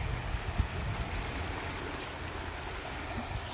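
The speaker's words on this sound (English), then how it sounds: "But I love the sounds of a creek." Creek water flowing outdoors, a continuous broadband rushing and burbling wash at moderate level, with no talking over it.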